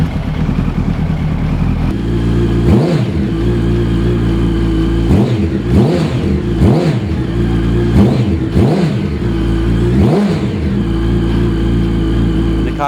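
A loud 2005 Yamaha R1 sport motorcycle engine idles close by and is revved repeatedly, with sharp rising and falling blips in a steady rhythm.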